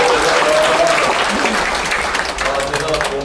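Sustained applause from an audience at a book launch in a National Assembly museum hall, dense and steady throughout while a voice speaks over it.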